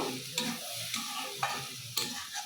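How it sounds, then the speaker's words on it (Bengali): A spoon steadily stirs and scrapes a sizzling mixture in a pan over a low gas flame after a splash of hot water while cooking Mughlai paratha filling, with sharp scraping strokes recurring about every half second over continuous frying hiss. "দিয়ে এটাকে ভালো করে কষিয়ে নেব"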